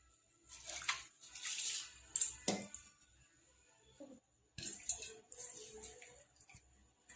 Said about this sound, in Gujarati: અહીંયા પાણી બોઇલ થઈ ગયું છે, હવે ચોખા એડ કરી દઈશું આપણે।